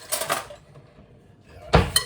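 A spoon clinks against a bowl while mixing a barbecue-flavoured marinade for kebabs, with a short cluster of bright clinks at the start and another louder burst near the end, separated by a quiet pause.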